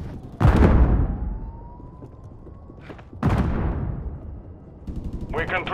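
Loud gunshots and blasts break out in Call of Duty Modern Warfare 3, a sharp burst near the start and another after three seconds, with quieter game sounds and a faint rising tone between them.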